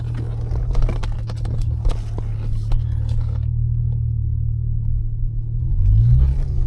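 A GM car engine idles with a steady low rumble and then builds as the car pulls out of a parking spot, with light interior clicks and rattles over the top and a swell of engine noise near the end.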